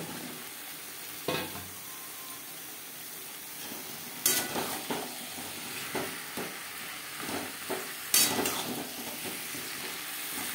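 Potatoes being stirred into fried spice paste with cooked-down onion and tomato for an egg and potato curry, a soft steady sizzle broken by repeated scraping and clanking of a spoon against the pan, close by with no talk.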